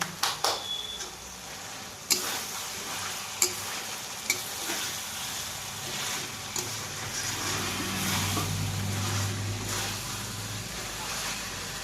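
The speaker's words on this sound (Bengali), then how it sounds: "ড্রাই রোস্ট করে আমি জ্বলে দিচ্ছি যাতে গন্ধটা ভালো বেরোয়" Kasuri methi (dried fenugreek leaves) dry roasting in a pan, a close, steady low sizzle with a few sharp utensil taps and scraping stirs, a faint voice briefly underneath.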